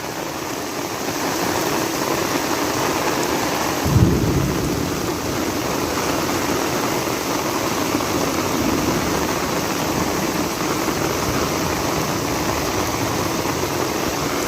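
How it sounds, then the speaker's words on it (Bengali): Heavy, steady rain roars across the whole stretch in a village, with a deep low thunder rumble swelling briefly near the start. "মারাত্মক লেভেলে বৃষ্টি শুরু হয়েছে"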